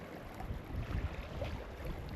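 Steady wind gusts buffet the microphone with low rumbling, continuous and fairly loud, with no voices.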